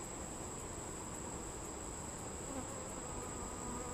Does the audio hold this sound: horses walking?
no